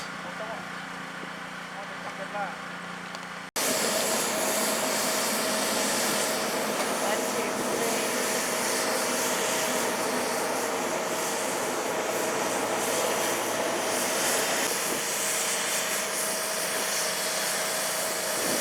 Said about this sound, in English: Okay, they're getting it started. Washing off the roof.